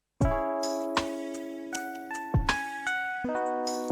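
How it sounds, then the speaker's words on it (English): Default electric bass preset of Ableton's Collision physical-modeling instrument, struck at a high register so each note rings out with a bell-like metallic attack and sustained overtones, several notes following one another, clean and alone. "Electric bass is actually a collision instrument,"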